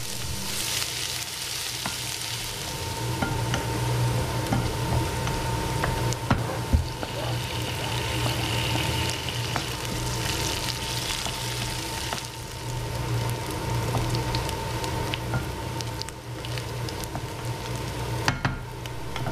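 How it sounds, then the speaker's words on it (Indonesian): Steady sizzling of chopped shallots and bird's-eye chilies frying in hot oil until wilted, with occasional stirring scrapes, continuous and fairly loud with no voices. "Pertama-tama tumis cincangan bawang merah dan cabai rawit hingga layu."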